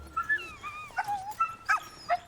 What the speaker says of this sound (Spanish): Un poco más abajo se encuentra el territorio de los perros de trineos y de Rachel Doris, la campeona local.